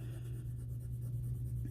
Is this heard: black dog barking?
no